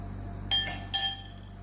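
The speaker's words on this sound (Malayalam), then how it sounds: "ഇനി നമുക്ക് 1 സ്പൂൺ ചതച്ച മാങ്ങ ഇട്ട് കൊടുക്കാം." Two bright clinks of a spoon against a glass as crushed raw mango is added to a homemade raw mango drink, close and sharp over a low steady background hum, with no talking.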